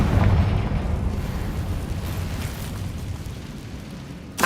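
A Confringo spell explosion in the video game Hogwarts Legacy booms loudly at the start, then rumbles and fades steadily over several seconds before a sharp new burst at the very end.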